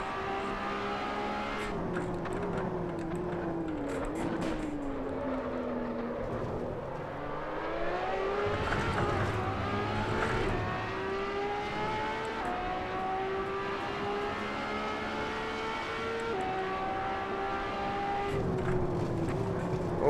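Ferrari LaFerrari in Assetto Corsa at Spa Francorchamps, engine revving hard through repeated upshifts, with rising harmonic pitch sweeps broken by brief shift dips, continuous and loud throughout with no talk.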